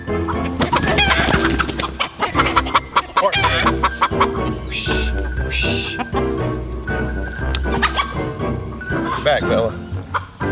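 Chickens cluck and squawk up close on a homestead, busy and irregular, with a jingling tinkle and people talking and calling over them.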